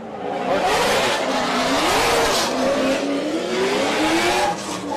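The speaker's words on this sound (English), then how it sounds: "Nate Hamilton's car sounds so rowdy" A Formula Drift Pro 2 competition car, a Corvette, screams through a run with a rowdy, constantly revving engine and squealing tires, loud and sustained with no talk over it.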